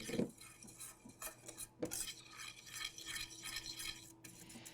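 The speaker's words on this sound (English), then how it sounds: "I'm coming back with the whisk this time" A whisk stirring caramel sauce in a pan, with a steady scraping and swishing that runs without pause and includes a couple of sharper clinks against the metal.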